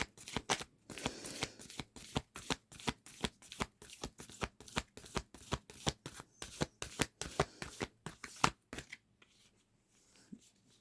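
Starseed Oracle cards are shuffled in a brisk, even run of about twenty crisp slaps and riffles, close and alone, stopping near the end and leaving quiet.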